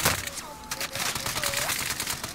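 Rapid automatic assault-rifle fire from a C58 in Call of Duty Warzone, a dense, loud continuous burst of shots mixed with other game sounds and brief voice chat.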